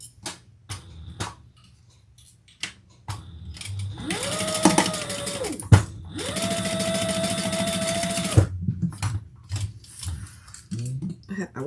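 A sewing machine stitches bucket bag panels together at the seam, running in two steady bursts of several seconds each, with a brief pause between them, quiet handling sounds around them.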